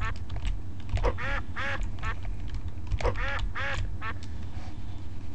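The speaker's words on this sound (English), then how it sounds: "it's going to make a quack sound instead" Cartoonish duck quacks used as an attack hit sound in a video game, several quick nasal quacks in clusters over a steady low background hum, fairly loud and close.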